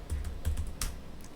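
Keys tapped on a computer keyboard while a password is typed on a new Ubuntu machine, a short burst of close, crisp clicks in uneven rhythm with brief pauses.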